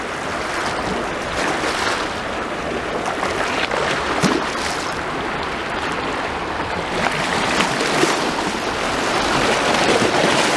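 Steady surf rolls onto the shore below Blackpool promenade under clear skies, a constant wash of waves with occasional louder breaks and some wind, moderately close, with no talking.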